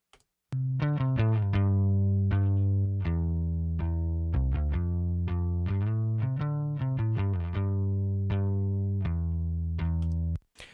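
A clean, unprocessed DI electric bass guitar plays a steady line of plucked notes, bright attacks decaying into sustained low tones, alone with no other instruments.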